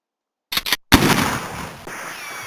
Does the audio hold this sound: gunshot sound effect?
yes